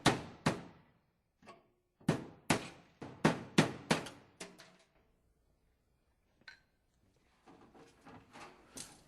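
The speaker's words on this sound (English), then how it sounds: "the remaining hinge is removed using a small chisel" A hammer drives a small chisel to knock out the remaining door hinge while fitting a recessed touchless towel dispenser: sharp, close metallic taps in quick bursts with pauses between, no talking.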